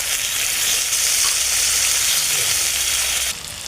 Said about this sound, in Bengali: এখন দিয়ে দিলাম টমেটো কুচি।